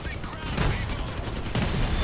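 Dense, continuous gunfire in the vehicle combat game Crossout rattles loudly throughout, a steady barrage of overlapping shots, with talk over it.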